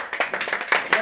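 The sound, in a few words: clapping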